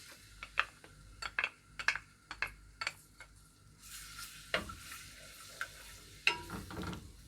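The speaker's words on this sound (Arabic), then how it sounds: "نديله تشويحه بس كده في الزيت بتاعنا" Mashed garlic sautéed in oil in a pan for a liver and gizzard dish, with soft frying sizzle beneath a series of sharp utensil clinks and stirring scrapes, close up with no talking.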